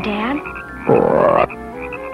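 A frog croaks in a brief, loud, rasping burst at a pond in a nature setting, sounding close and mixed in among music and a person speaking.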